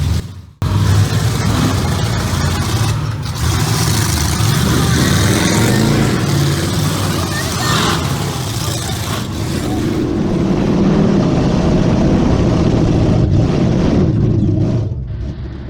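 Monster truck engines roar and rev at full throttle during an Old School Monster Life race over stacked cars, a loud, continuous, dense mechanical drone that swells and holds for the whole stretch.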